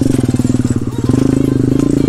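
A pit bike engine revs loudly and close while being ridden, a rapid buzzing four-stroke pulse with a fast regular beat that rises slightly in pace toward the end.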